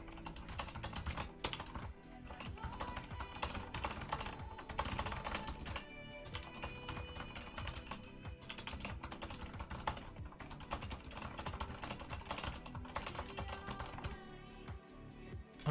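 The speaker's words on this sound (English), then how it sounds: "watch me type fast and then actually type faster than me" Rapid, continuous typing on a computer keyboard during a Type Racer race, a dense run of close clicky keystrokes with brief pauses, steady throughout and with no voices.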